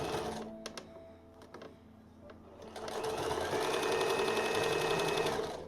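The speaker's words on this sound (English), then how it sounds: "right before I sewed the body together along the shoulder seams and the side seams" A sewing machine stitches doublet fabric along shoulder and side seams, starting with short clicking bursts, then running in a steady, close whirring stretch before stopping.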